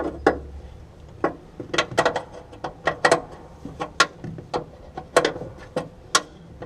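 Bolts are worked loose from a 1970 Chevy Nova seat, with a close series of sharp ratcheting clicks and metallic ticks in irregular bursts, some louder snaps standing out against a quiet background.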